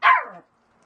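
A single sharp dog bark, close and loud, falling off quickly into silence.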